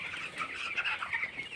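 Broiler chickens on a poultry farm in winter cluck and chirp nearby, a busy overlapping chatter of many birds that continues steadily without pause.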